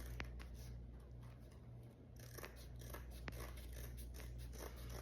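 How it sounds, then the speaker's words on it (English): Scissors snip through needlepoint canvas in a quiet room, a series of soft, close clicks and crunching cuts at an irregular pace over faint background hum. "So I'm gonna cut all my canvas here."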